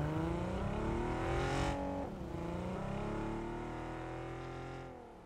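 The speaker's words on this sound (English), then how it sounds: "Are you drag racing or?" A car engine in PUBG revving hard during a drag race, sustained loud harmonic roar that climbs in pitch, drops at a gear shift, then builds again and fades slightly.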